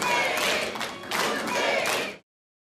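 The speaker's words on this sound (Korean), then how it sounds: "문재인 전 대통령 내외 등장에 환호와 박수가 터져 나옵니다." A crowd cheers and applauds as former President Moon Jae-in and his wife arrive at the 7th anniversary ceremony of the April 27 Panmunjom Declaration; loud, dense whooping and clapping swells twice, then stops abruptly.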